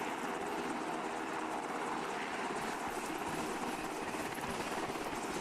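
Constant helicopter rotor roar in an Arma military game, a dense, close, unbroken drone with steady loudness from start to end.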